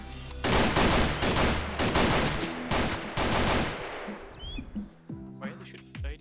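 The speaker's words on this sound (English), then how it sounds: "Oh my god, there's shots right beside me the whole time." Bursts of rapid gunfire in the survival video game DayZ crack loudly at close range, then fade into quieter scattered shots while a player talks over them.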